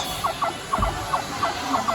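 A string of quick gobbling calls from animatronic turkeys on the Gobbler Getaway ride at Holiday World, in paired bursts recurring rhythmically over a low background rumble.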